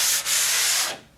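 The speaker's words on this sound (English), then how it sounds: "There's a little bit of an edge there, so just kind of sanded that down." Sandpaper rubbing down the raised edge of a drywall patch, a steady close scratchy sanding stroke that dips briefly and then trails off near the end, with no talking.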